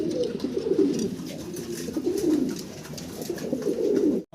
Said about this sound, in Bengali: চমৎকার এক জোড়া রেসার কবুতর দেখাচ্ছি আপনাদেরকে, অ্যান্ডালুজিয়ান কালারের ভিতর।